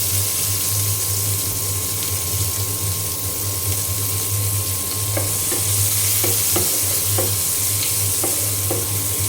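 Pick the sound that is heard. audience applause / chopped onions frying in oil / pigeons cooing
chopped onions frying in oil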